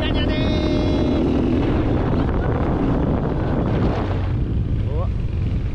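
A motor scooter ride on the road, with steady wind roar buffeting the microphone over a low engine drone throughout; faint voices may sit beneath the rushing noise.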